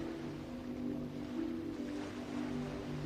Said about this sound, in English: of the waves in the ocean.